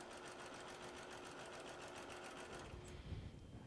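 A sewing machine stitches quilt block seams for a log cabin block, a fast, even mechanical whir that runs steadily, then slows and stops near the end.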